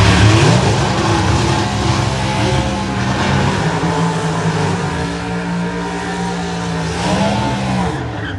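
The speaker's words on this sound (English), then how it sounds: "down the side is Jesse Alexander of West Bend, Wisconsin, completing the burnout" A drag racing car at NHRA nationals doing a burnout, its engine roaring loud and steady with tire squeal and a rising rev near the end, heard close with no talk.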